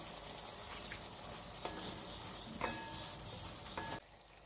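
A spoon of vinegar hitting a hot pan of dragon chicken, a steady moderate sizzle with a few sharp crackles and clinks, cutting off near the end.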